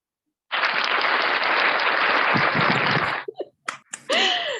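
A crowd at a church gathering bursts into loud, dense applause that roars on for almost three seconds and then stops abruptly, followed by a few short breathy sounds and a voice.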